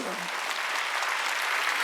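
A church congregation at a Wednesday worship service claps together in a dense, steady wash of applause that fills the room evenly from start to finish.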